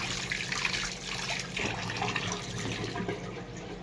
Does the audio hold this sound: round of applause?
no